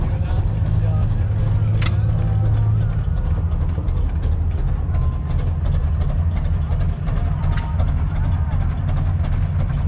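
A Chase turbine-driven shingle mill made in Orange, Massachusetts runs steadily with a continuous low mechanical drone and rumble, a brief sharp whine near the start, and no pauses throughout.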